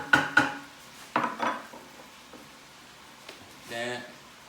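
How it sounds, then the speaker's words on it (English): Onions are stirred in a Power XL cooker with a few clattering utensil scrapes and taps against the pot, close and moderately loud, spaced irregularly and trailing off into quieter stirring. "I'm going to put my onions in. That, mix it up."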